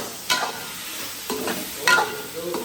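Boiled chicken pieces being tossed and mixed in a pan, close spoon scrapes and clatters in a few bursts over a light frying sizzle, with no voices.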